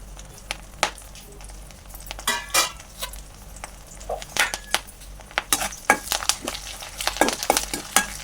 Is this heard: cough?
no